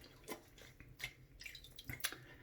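Water dripping and splashing during a post-shave rinse at a sink, with several brief, faint splashes and drips in quick irregular succession.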